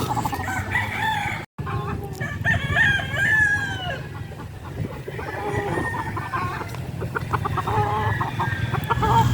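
A broodcock rooster crows loudly nearby, with hens clucking and other fowl calling around it in a busy farmyard.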